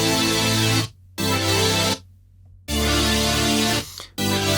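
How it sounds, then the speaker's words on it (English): A bright Serum super saw synth chord with a volume and cutoff ducking envelope, sounding in loud sustained bursts that cut to near silence between them in a pumping, gated rhythm. "So obviously this is a basic kind of super saw sound."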